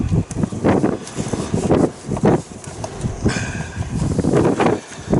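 Gusty outdoor wind buffets the microphone in uneven rumbling surges, loud and close, with some faint rustling and knocks mixed in; no voices.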